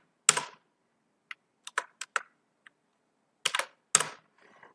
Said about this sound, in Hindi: जैसे कि हम यहाँ पे कुछ टाइप कर देते हैं और भी ज़्यादा